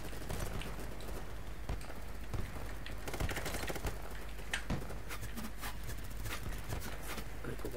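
Scattered bursts of gunfire in the video game BattleBit Remastered crackle over constant background noise, with sharp shots landing irregularly, some closer and louder than others.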